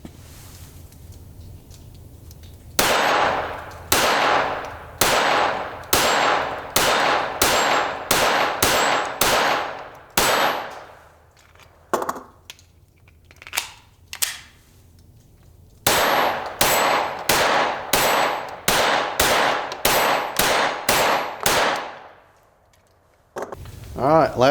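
A Glock 44 .22LR pistol fires 20 CCI Standard rounds at a range, sharp close shots in two fast strings with a short pause between, each shot leaving a brief ringing tail.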